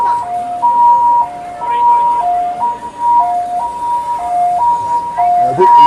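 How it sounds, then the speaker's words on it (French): An ambulance siren wails in a two-tone pattern as it passes along a street where traffic has stopped to let it through, loud and steady for the whole stretch over background street noise. "se sont tous arrêtés pour laisser passer l'ambulance"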